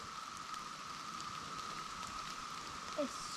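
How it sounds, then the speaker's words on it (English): Rain shaken loose by wind drips and patters off leaves in a North Georgia national forest on a ridge line, a steady soft hiss of scattered drops with a faint wind wash and no talk. "You can hear the wind. And rain's falling on my Yeah, head. knocking the last night's rain off the leaves."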